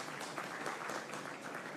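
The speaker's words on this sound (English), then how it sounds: "I want us to give the Prime Minister a big round of applause" Audience applause for the Prime Minister at a national identification system launch ceremony, a steady dense wash of clapping from a crowd, fairly even throughout with no voices standing out.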